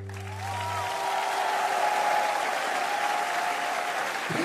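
A television studio audience applauds for a singer, loud sustained clapping swelling in after a closing musical note and holding steady, with crowd noise mixed in.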